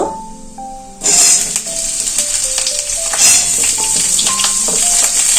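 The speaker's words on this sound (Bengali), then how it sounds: "এবার কেটে রাখা আলুটা দিয়ে দেব" Cut potatoes drop into a hot pan where fenugreek seeds were frying, setting off a sudden loud sizzle after a quiet second. The hiss then holds steady and close, with rattling scrapes of stirring and no talking.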